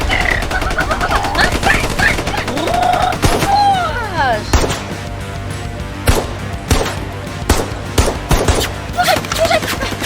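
Video game gunfire aimed at soldiers: rapid bursts and single sharp shots close and loud, interspersed with whooshing effects and a voice talking between shots.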